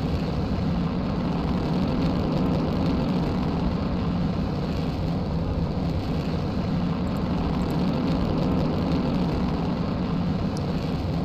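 A rocket engine in the video game Kerbal Space Program, with the Real Solar System mod, roars in a steady, loud, dense rumble that holds constant from start to finish without any pauses.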